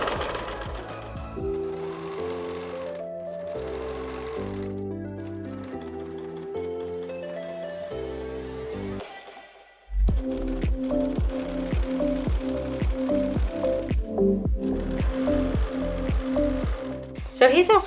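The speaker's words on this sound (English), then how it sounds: "put the foot down and continue sewing" A domestic sewing machine stitching machine-sewn binding and scallop edging onto a quilt, its motor whirring in steady rapid bursts that pause for about a second, then resume with a louder, fast, regular needle rhythm.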